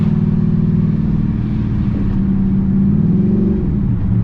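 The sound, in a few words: six-speed manual car engine revving, shifting into fourth gear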